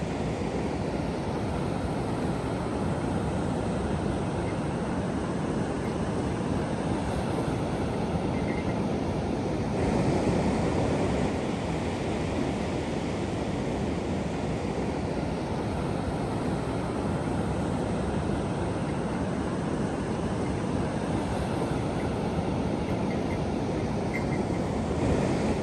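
Ocean surf rolls in steadily on a wild beach at Cape Scott as the tide rises, a continuous broad wash of breaking waves with wind buffeting the microphone, loud and unbroken throughout.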